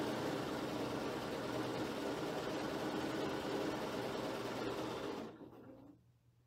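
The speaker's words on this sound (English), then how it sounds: "now we'll go in and sew side three on" A sewing machine runs steadily while stitching the third side onto quilt star pieces, a close, even mechanical whir that holds for about five seconds and then slows and stops.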